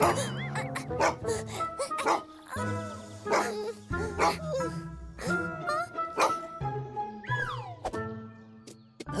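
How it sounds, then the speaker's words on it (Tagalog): A police dog in a children's cartoon barks and yips repeatedly at close range, with whimpering mixed in among music and other busy sounds. "Hinabol ng aso ang mga magkaibigan, pero nagawa nilang umakyat sa bakod."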